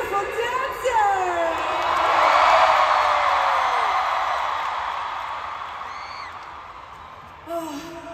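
A large concert crowd in an arena in Manila cheers and whoops loudly, swelling to a peak and then slowly fading, with scattered high shouts rising above the roar.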